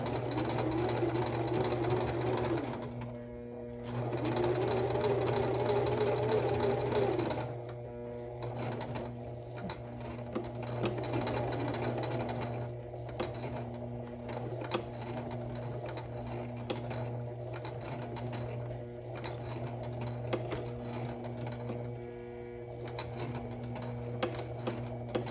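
A sewing machine stitches a buttonhole, its steady whirring needle rhythm running close and continuous, with a few brief pauses and slower stretches between bursts.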